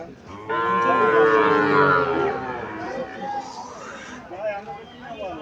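A heifer calf at Chandimura cattle market in Barura, Comilla, lets out one long, loud, close moo with rising and falling pitch, followed by quieter market noise and a voice nearby.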